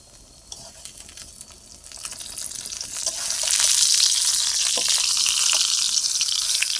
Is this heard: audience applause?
no